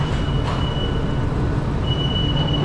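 A Shenzhen subway train rumbles along the track, loud and close, with a continuous low roar, rattling wheels and a thin high squeal that comes and goes.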